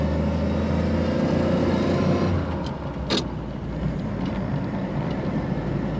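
1929 Chevrolet Landau Convertible engine running smoothly, a steady low rumble heard from inside the moving car with constant road and wind noise, loud and even, with a brief sharp knock or clunk near the middle.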